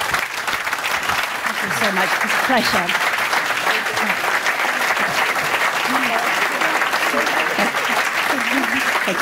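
Sustained audience applause fills the hall after a debate, steady and dense throughout, with a speaker's voice thanking the crowd over it.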